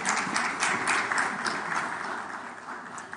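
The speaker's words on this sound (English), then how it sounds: "A round of applause for him." Steady audience applause at a business panel discussion on financing, dense clapping filling the whole stretch at moderate level without a break, welcoming a pension company CEO to the panel.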